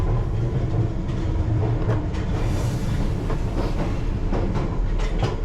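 London Underground Piccadilly Line train heard from inside another train, a steady rumbling roar with faint rhythmic clatter, loud and continuous with no voices.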